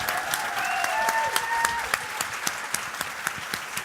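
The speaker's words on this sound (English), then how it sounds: "One more round of applause, please." A conference audience claps, a dense patter of applause that thins toward the end into scattered, separate claps. A few faint tones sound early on.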